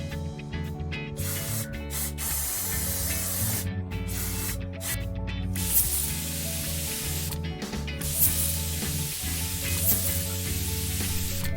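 Pesticide spraying inside a home by a pest control crew, a steady hissing spray running continuously with brief pauses and interruptions, heard close over a low background hum.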